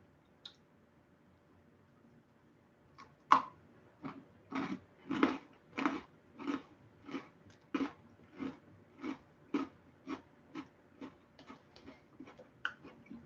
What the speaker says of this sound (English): Those are really crunchy